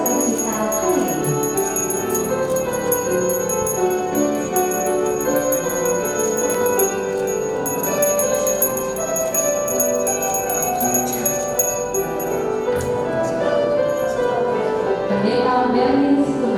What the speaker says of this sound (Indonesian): suara lonceng menandakan ada pesta sukacita hari ini